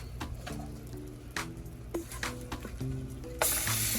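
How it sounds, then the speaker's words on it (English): Shrimp sizzle and crackle steadily in hot oil, a close, continuous frying hiss with brief sharp pops and a low hum underneath. "Nice little sizzle."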